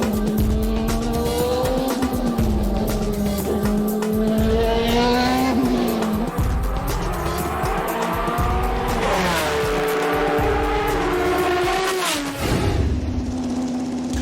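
A Creation race car is driven hard on worn tyres at Paul Ricard. The engine revs up and down through gear changes, and the tyres squeal repeatedly. It sounds close and continuous for the whole stretch.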